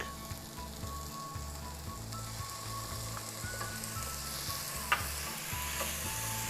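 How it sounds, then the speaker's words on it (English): Garlic and onions sauté in a pan with a steady, even sizzle and crackle throughout, plus one brief sharp clink, over a low cyclic hum in the background. "We're gonna let this saute real quick"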